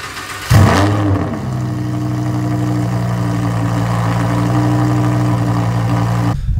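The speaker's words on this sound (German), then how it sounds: "ich habe mal einen Lambo-Sound über das Starten von meinem Motor des Minis gelegt" A Lamborghini engine sound laid over a Mini starting up: a sharp ignition burst and quick rev, then a steady, deep, loud idle rumble that holds to the end with no talking.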